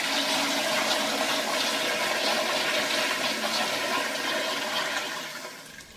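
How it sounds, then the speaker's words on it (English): A household toilet flushes in one steady, loud rush of water that holds for several seconds and then tails off as the cistern drains. "of course, flushing the toilet."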